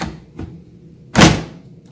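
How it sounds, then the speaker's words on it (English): An Instant Pot Vortex air fryer door being fitted back on produces a faint click, then a solid plastic thunk as it seats, alone in a quiet kitchen. "put the door at a 45-degree angle, line up the tabs"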